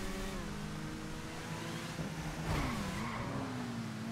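Video game motorbike engine droning steadily with a tire skid and a rising rev near the end, loud and continuous without talk.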